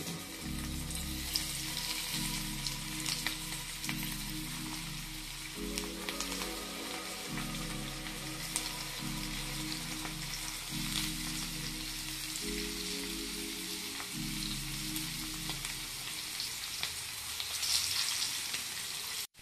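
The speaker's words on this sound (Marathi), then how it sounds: "आता तेल गरम झालंय, तेलामध्ये टाकूया।" Pieces of catla fish fry in hot oil, giving a steady, close sizzle with crackling pops throughout, heard alone with no talking.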